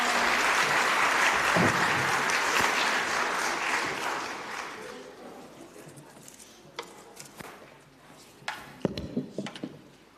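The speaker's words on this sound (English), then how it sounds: "Ladies and gentlemen, round of applause for our lovely Giovanna." Audience applause at a Samoan siva dance school's tenth anniversary show, dense clapping that fades over several seconds, leaving scattered claps, knocks and a few close handling sounds.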